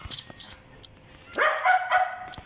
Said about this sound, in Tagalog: Marami pala kami aso.